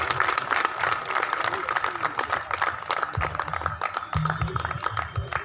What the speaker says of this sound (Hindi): एक बार जोरदार तालियां हो जाए सभी मिलकर मान।